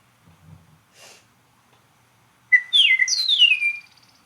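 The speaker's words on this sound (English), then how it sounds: "As opposed to the eastern meadowlark." After a few soft breathy noises, an eastern meadowlark gives a clear whistled song of slurred notes sliding downward, close and distinct.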